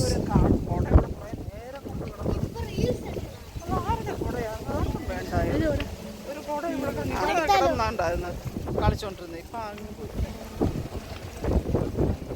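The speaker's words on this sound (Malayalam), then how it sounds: "ഭീകരം കാറ്റ്." Gusty wind roars and buffets the microphone in a low, rough rumble while a person talks over it nearby.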